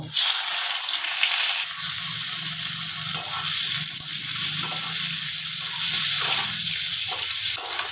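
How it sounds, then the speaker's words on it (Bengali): Cauliflower florets frying in white oil with a pinch of turmeric in a kadai, a continuous loud sizzle and hiss with stirring scrapes throughout, close up and without speech. "এবার ফুলকপিগুলো ভেজে নেব"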